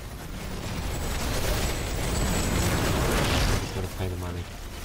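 Explosions as a building is destroyed in the sci-fi base-building game Riftbreaker, a dense, sustained rumbling blast roar lasting several seconds before cutting down, with game audio layered underneath.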